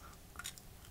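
A crunchy Japanese snack, the new Mochi Taro from a snack box, bitten and chewed close up, giving a brief burst of crisp crunching with no talk.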